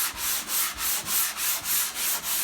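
A countertop is hand sanded with fine-grit sandpaper, giving a close, rhythmic back-and-forth rasp of about nine even strokes.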